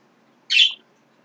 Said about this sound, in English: Please don't mind those birds.